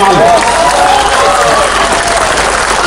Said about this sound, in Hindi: जरा हाथ उठाकर तालियां बजा दीजिए